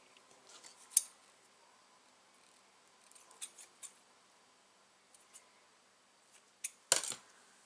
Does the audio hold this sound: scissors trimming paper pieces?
yes